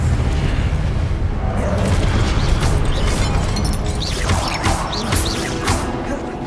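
Confringo fire spell blasts in Hogwarts Legacy, a dense run of booming, crackling explosions and magical bursts layered over steady rumbling game noise, with several sharp impacts across the stretch.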